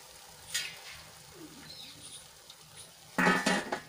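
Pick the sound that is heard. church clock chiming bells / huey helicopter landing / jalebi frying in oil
jalebi frying in oil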